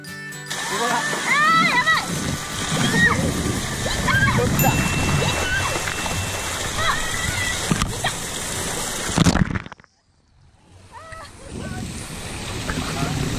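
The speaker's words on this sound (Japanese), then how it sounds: "ああ流れるプールだ。" Water splashes and sloshes steadily at a lazy river in the WaterBom water park, with crowd noise and people talking over it, then a sudden brief drop to near silence before the splashing resumes.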